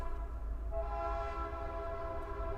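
A train horn blares in a long sustained chord over a low rumble of rail noise, steady and moderately distant, with no voices.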